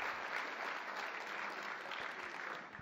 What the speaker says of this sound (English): a rousing round of applause for the spouses that are with us tonight